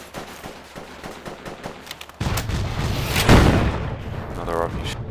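Heavy rocket blast in the Battlefield 2: Project Reality game set in Fallujah West, a deep booming burst swelling midway through, preceded by sharp rapid gunfire cracks, with a voice speaking over it.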